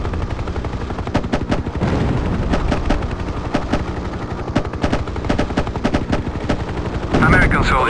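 Heavy 30mm helicopter cannon fire in the video game Hind pounds in rapid repeated bursts, loud and close, with a low engine rumble underneath and a short voice near the end.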